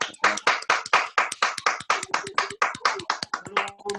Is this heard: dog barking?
no